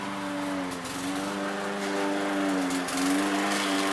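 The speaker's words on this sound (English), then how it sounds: "Lawnmower's getting louder and louder, and I'm figuring it's going to probably be louder than me pretty soon." A lawn mower engine drones steadily and fairly loudly nearby, its pitch rising and dipping slightly as it moves past, with no talk over it.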